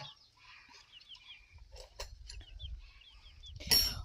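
Chickens clucking and chirping close by in a quiet setting, several soft calls overlapping, with a louder squawk near the end.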